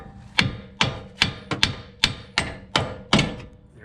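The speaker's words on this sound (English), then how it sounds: "I have to hit it probably with the pickle fork" A pickle fork is hammered to break loose a car's upper control arm ball joint, ringing out as eight sharp metallic strikes in a steady rhythm, loud and close with no talk.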